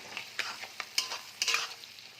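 Capsicum frying in a pan, quick scraping spatula strokes over a soft sizzle, close and moderately quiet in a short run of uneven bursts.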